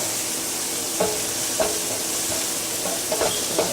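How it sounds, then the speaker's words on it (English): Onions sizzle steadily as they fry in a pan, with a handful of soft scraping knocks where a utensil stirs them through the sizzle. "I'm going to add that to the onions. We're going to stir it up."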